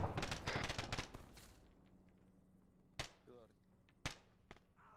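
Distant gunfire in the game SquadOps Special Forces: rapid bursts crackle at the start, then fade. Two sharp, isolated shots ring out later with quiet background between them.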